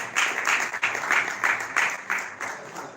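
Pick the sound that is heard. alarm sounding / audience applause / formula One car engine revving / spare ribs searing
audience applause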